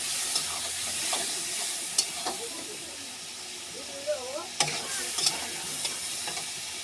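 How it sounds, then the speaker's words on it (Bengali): Spice masala fries with a splash of water for soybean kofta curry, hissing and sizzling steadily while a utensil scrapes and taps the pan now and then; a faint voice drifts in briefly mid-way. "একটু জল দিয়ে মশলাটাকে ভালো করে কষিয়ে নেব।"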